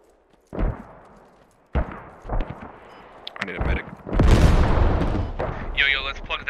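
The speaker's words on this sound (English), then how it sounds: "put smoke mortar in the place" Mortar fire and distant booms in the military shooter Squad, a series of heavy thumps and a rolling blast building over several seconds, with players talking over the radio.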